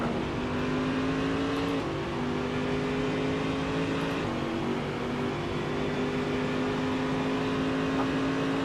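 A race car engine from the Assetto Corsa driving game drones steadily and loudly under power, its pitch holding almost level with two brief dips around the gear changes.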